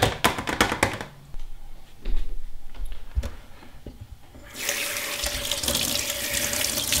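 Cold tap water running into a sink over chow chow vegetables in a colander, starting with scattered knocks and clatter, then a loud steady rush of running water for the last few seconds.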